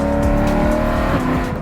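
A BMW E92 M3 engine blips through a downshift, giving a loud, close, throaty drone whose pitch sweeps as the revs rise and fall.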